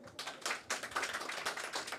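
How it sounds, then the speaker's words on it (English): An audience applauds a presenter at a panel on financial incentives for nature and climate-positive food systems: a dense, moderately distant patter of clapping that swells and holds steady for two seconds. "You get a lot of applause."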